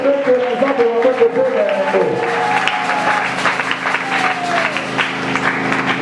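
A church congregation applauds to acclaim the Lord, steady sustained clapping from many hands in a reverberant hall, with voices and singing woven through it.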